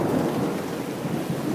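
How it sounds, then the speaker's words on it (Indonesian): Heavy rain pours in a dense, even hiss with a deep rolling rumble of thunder beneath it, loud and steady throughout with no voices. "Lihatlah hujan ini."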